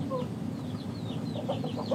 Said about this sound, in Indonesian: terutama khususnya ayam segi, ayam Bangkok teman-teman